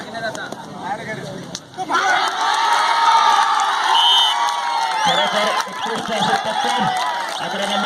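Spectators at an outdoor kabaddi match cheer, whoop and shout in a loud, sustained crowd roar that swells after a brief lull, with children's voices and a commentator speaking over it.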